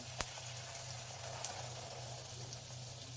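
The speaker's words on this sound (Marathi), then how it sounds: "या ठिकाणी तेल गरम झालेलं आहे पुरी तळून घेऊयात" Puri frying in hot oil for a homemade aamras puri meal: a faint, steady sizzle and bubbling with a couple of soft pops, heard alone without talk.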